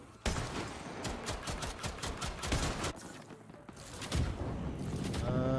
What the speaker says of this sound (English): Oh shit, I'm being shot at.